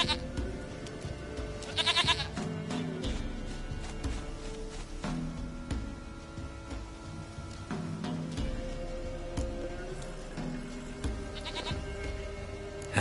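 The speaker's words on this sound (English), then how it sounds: "Goat of mine, dearest, sweetest goat." A goat in The Witcher 3: Wild Hunt bleats in two short, wavering bursts, one early and one near the end, over a steady bed of game music and ambience.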